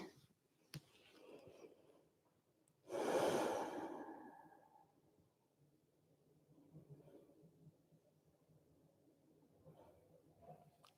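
A person doing a lying relaxation stretch takes one long, audible exhale like a sigh, fairly close and quiet, with soft breaths and faint room sounds around it.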